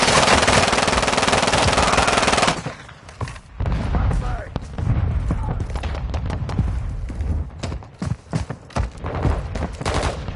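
Gunfire in the video game Call of Duty Modern Warfare: a loud, dense burst of automatic fire for the first couple of seconds, then scattered shots, thuds and booms mixed with shouted in-game voices.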